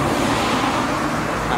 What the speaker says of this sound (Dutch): maar het is weer verkeer vandaag